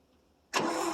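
A 1959 International B120 4x4 catches on a cold start after years of sitting. There is a faint lead-in, then the engine bursts abruptly into a loud, steady run close by.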